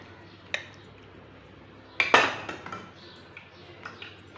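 Murabba being stirred into syrup in a pot while making homemade tutti frutti, heard as a few clinks of a spoon on metal, with one sharper scraping clatter and quieter taps in a hushed kitchen.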